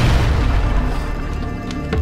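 A rocket launcher round explodes in Serious Sam, a loud, heavy low-end boom that rumbles and slowly fades, followed by a couple of faint clicks near the end.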